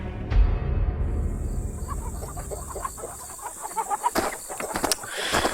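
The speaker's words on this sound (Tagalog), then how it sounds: "Tapos nag-ingay din ang mga manok nun" Chickens cluck in short, scattered bursts at close range over a low rumbling background.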